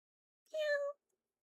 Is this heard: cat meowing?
yes